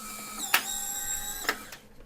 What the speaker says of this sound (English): print your image using your phone and the Polaroid lab